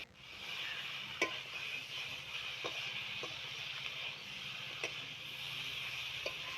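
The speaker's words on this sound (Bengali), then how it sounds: "সবজিটাকে এবার আবার ভাজা ভাজা করছি কিছুক্ষণ" Vegetables seasoned with salt and turmeric fry in a pan while being stirred, a soft steady sizzle broken by occasional light clicks of a spatula against the metal.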